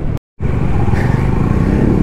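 A Bajaj Dominar motorcycle engine hums steadily while riding on an early-morning road, the loud, even drone broken only by a brief dropout near the start, with no voices.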